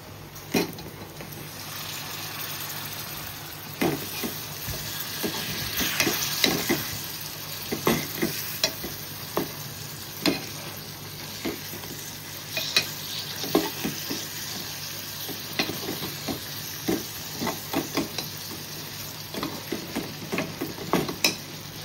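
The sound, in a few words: fish frying and being stirred in a pan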